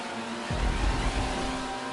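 Car engine revving in GTA Online, a loud, rough low growl that surges in after a brief quiet half second and holds steady to the end, with no voices over it.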